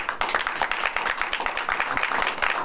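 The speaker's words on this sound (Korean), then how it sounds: "이휘천 교수님 앞으로 모실 때에 큰 박수로 환영해 주시기 바랍니다." An audience at a lecture forum claps to welcome a professor to the front, with quick, uneven hand claps close by, moderately loud throughout.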